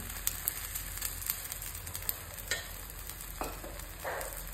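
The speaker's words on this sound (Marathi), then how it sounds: "आनी 1-2 मिनटां ही परतून घेवपाची" A breakfast dish sautes in oil on a stove, with a continuous soft sizzle and occasional stirring scrapes and light clicks, close and fairly quiet.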